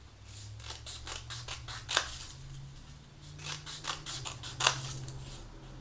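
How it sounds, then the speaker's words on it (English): Scissors snip repeatedly through construction paper in quick, close rhythmic bursts, making small slits without cutting all the way through, with two sharper clipped snips standing out over a low background hum. "very carefully with your scissors, cut into the paper, but not all the way through"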